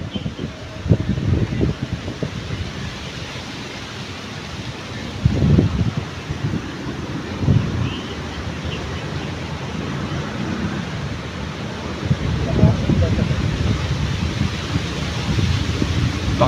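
Strong wind buffeting the microphone at a fishing spot, a continuous rough roar with heavier gusts swelling every few seconds and no clear talk.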